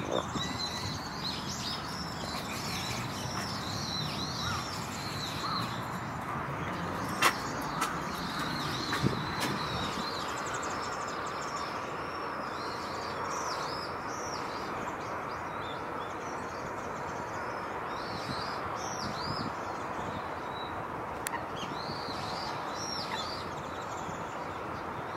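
Wild birds call in repeated high chirps at a winter bird-watching spot, scattered over a steady, broad rushing background that stays fairly loud throughout, with a few sharp knocks.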